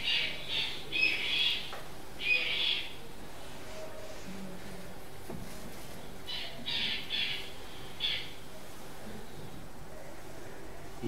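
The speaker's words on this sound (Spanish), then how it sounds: "Una chimachima ahí en el, en el río Amazonas." A yellow-headed caracara by the Amazon river gives harsh, high squawking calls in two clusters of three to four screeches, fairly close and loud over a faint background hum.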